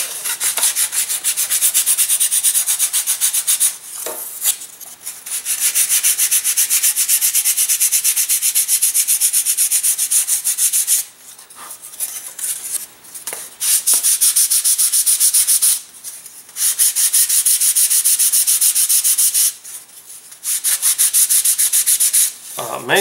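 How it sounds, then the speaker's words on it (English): Sanding a part for a Caspian Sea Monster model aircraft produces loud, steady rasping strokes in long sustained runs broken by brief pauses, close up and with no talking. "Main thing is sand all that down, but leave this flat up here, and then you can round things off a little bit around the top."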